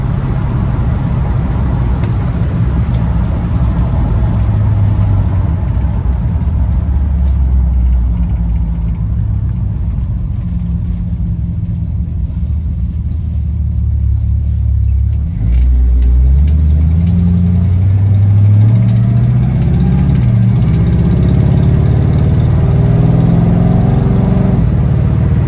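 A 1947 Ford Custom four-door sedan driving on the road, its engine droning steadily close by with tire and road rumble, and the engine note rising as it accelerates in the final stretch.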